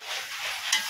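Mutton being stir-fried for kasha in a village pot, a steady close sizzle of meat and spices with soft scraping of stirring, no voices.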